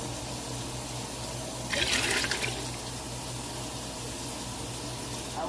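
Hot water runs steadily from a tap into a pan, a constant gushing splash at moderate volume under faint background hum.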